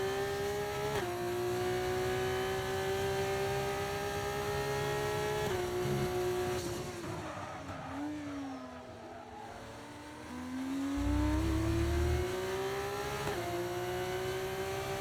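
F2 race cars in a racing video game at Spielberg, engines whining at high revs, climbing through gears with sharp shift drops, the pitch sinking and rising again as a car slows and accelerates, steady and close.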